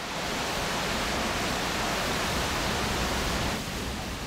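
A 60-metre waterfall spilling over limestone rock makes a steady, broadband rushing roar, even and unbroken, heard alone with no voices, easing slightly near the end.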